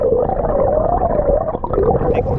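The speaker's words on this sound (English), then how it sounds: "I just got sprayed by a dolphin." A dolphin gives a sustained, wavering moaning call up close in the Florida Keys, loud and continuous with no talk over it.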